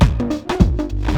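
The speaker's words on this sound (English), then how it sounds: "And all we need to do the reverse trick is check the reverse button," Electro drum machine beat played in reverse, with swelling hits that build and cut off abruptly over a sustained low bass tone, alone with no talking.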